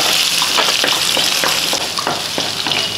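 Ginger and garlic fry in a pan for a Kerala fish curry, a bright steady sizzle with soft scraping stir strokes, close and continuous without talk.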